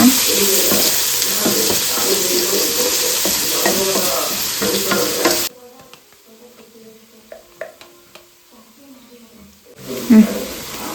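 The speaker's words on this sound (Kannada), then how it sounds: "ಹಾಕ್ಕೊಂಡಾದ್ಮೇಲೆ ಫ್ರೈ ಮಾಡ್ಕೊತಿದ್ದಾರೆ ಅನ್ನ" Vegetable fried rice frying and being stirred in a pan: a loud, steady sizzle with scraping stirs under voices, then a sudden drop to quiet clinks and taps before the sizzle returns.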